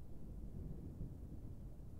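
Low, continuous rumble of thunder during a storm, a steady deep roll filling the whole short stretch with no pause or voices.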